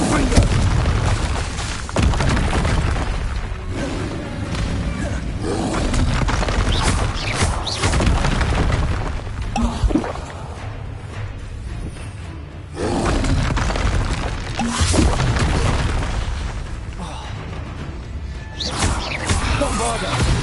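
Repeated booming spell explosions from Bombarda and Confringo in the video game Hogwarts Legacy, loud and dense over about twenty seconds with rumbling low-end blasts and crackling bursts, mixed with game effects and some voice.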